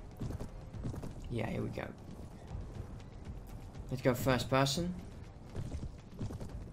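Horse hooves clip-clopping in the medieval combat game Mount and Blade Warband, a rapid irregular patter of hoofbeats underneath someone talking, with two brief louder bursts of other game noise.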